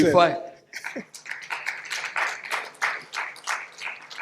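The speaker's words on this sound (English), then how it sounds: "I don't know if it's applause for me or for you" Audience at a scientific session meeting bursts into applause right after a sharp opening sound, with dense clapping continuing steadily through the rest of the moment at moderate volume.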